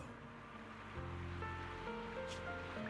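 Rushing current of an underground river beneath a hollow in the video game Zenless Zone Zero, a steady broadband watery wash with layered musical tones over it, continuous and moderately loud throughout.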